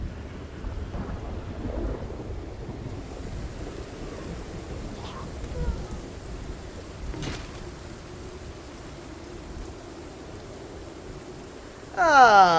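Thunderstorm in the zombie survival game Project Zomboid, with steady rain hiss and a few low thunder rumbles, faint and distant, before a louder burst at the end.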